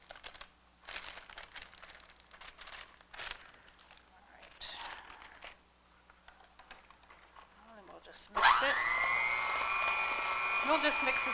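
Yellow cake mix for cupcakes is beaten smooth: soft kitchen clatter and light tapping give way, after about eight seconds, to a loud, steady electric mixer whir that runs to the end.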